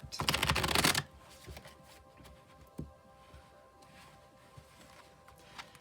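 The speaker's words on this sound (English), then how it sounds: "I'll shuffle till it feels ready, and then we'll cut and deal straight off the top." Tarot cards riffle-shuffled close up, a burst of dense rapid flutter for about a second, followed by quieter scattered taps and handling sounds of the deck.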